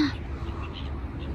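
Crows caw outdoors in Budapest, a harsh call near the start followed by fainter scattered caws over steady city background noise.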